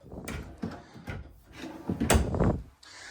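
A drawer in the bathroom of a 2026 Cougar 355FBS fifth-wheel RV opens and closes, giving several close wooden slides and thumps in an uneven rhythm.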